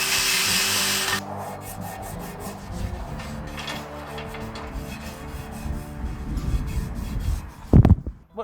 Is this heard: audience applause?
no